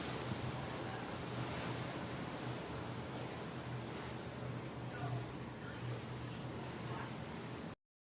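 Ocean surf watched from the deck of a cruise ship at sea, a steady broad wash of waves and wind that runs unbroken and fairly loud throughout, with no talking.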